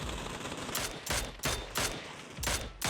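Gunfire in the video game PUBG, with tapped bursts of rifle shots aimed at targets: several sharp, evenly spaced cracks in quick succession, loud and clear with no talk over them.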